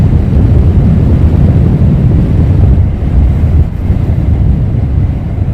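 Strong gusts of wind buffet the microphone at an outdoor plane-spotting spot at Luton Airport, giving a loud, steady low rumble that eases slightly partway through.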